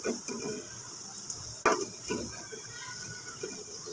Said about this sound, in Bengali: তেলটা যখন ভালোভাবে গরম হয়ে যাবে তখন আমি চারটা পেঁয়াজ বেরেস্তা করে নিব